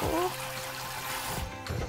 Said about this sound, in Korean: 그래서 그 다음에 이제 물로 한번 겉에를 샤워를 시켜주세요.